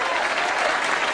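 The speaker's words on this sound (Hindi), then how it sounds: "लेकिन इन तालियों का हकदार मैं नहीं हूं।" Steady, dense applause from a large audience at an event honouring an actor, a continuous wash of clapping filling the whole moment with no pauses.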